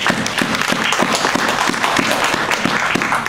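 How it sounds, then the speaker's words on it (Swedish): A church congregation in Stockholm claps for first-time visitors, a lively, close burst of hands with distinct individual claps in a fairly regular rhythm. "Ska vi ge dem applåd?"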